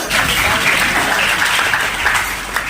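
An audience at a Hindi religious discourse claps, a loud, full burst of many hands beating together continuously for a couple of seconds.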